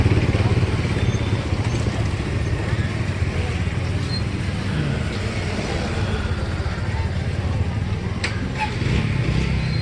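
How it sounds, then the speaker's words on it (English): Motorcycles in busy Kathmandu street traffic, a steady rumble of small engines idling and moving past at close range, with clatter and voices in the background. "Check out the motorcycles."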